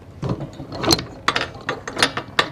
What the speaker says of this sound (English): we put our handle over one of the three prongs of the wing nut and ease back on the clutch